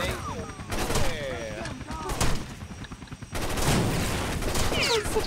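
A small, weak grenade goes off in Rainbow Six: Vegas 2, a sudden broad burst of noise partway through that follows scattered gunfire-like pops and game sounds, with voices talking over parts of it.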